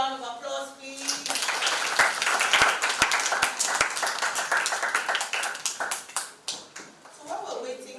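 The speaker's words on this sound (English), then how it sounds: "Another round of applause, please." An audience at a tech event for teens and children claps, the applause swelling into a thick burst with some sharp individual claps standing out, then thinning out toward the end, with voices murmuring underneath.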